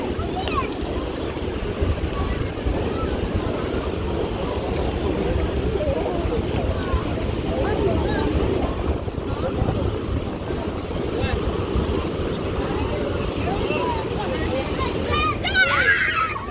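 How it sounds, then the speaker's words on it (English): Strong wind roars steadily across a mountain setting in Yosemite, a constant close, full rumble buffeting the microphone throughout, with faint voices at moments. "the wind's picking up for us"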